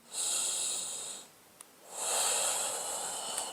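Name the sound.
deep yoga breathing, inhaling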